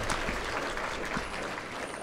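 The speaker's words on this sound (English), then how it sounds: "That's worth applauding." Audience applause fills a banquet hall at the 22nd annual Damon Runyon Award Banquet of the Denver Press Club, a steady, dense wash of many hands clapping throughout.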